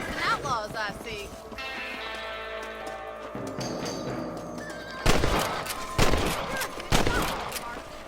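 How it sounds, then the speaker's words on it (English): Gunshots from a Red Dead Redemption game hunt for rabbits, several sharp loud cracks spaced about a second apart in the latter half, following horse whinnies and hoofbeats with speech over it. "Kill those little vermin! You're better at shooting rabbits than outlaws, I see."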